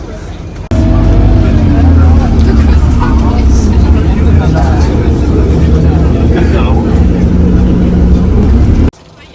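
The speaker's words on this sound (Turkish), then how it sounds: "Böyle otobüslere binerek götürüyorlarmış. Otobüsler geliyor böyle." Shuttle buses arriving at the Stonehenge visitor site: a steady, loud low engine rumble and road noise fill the scene for several seconds, with people talking and crowd babble mixed in.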